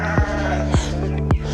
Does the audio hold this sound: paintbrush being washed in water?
no